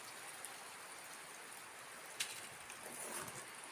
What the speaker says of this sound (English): we've got a lovely bit of rain